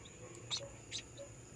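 Faint, high chirps from newly hatched chicks in a homemade DIY incubator, a few short peeps spaced apart against a steady low hum.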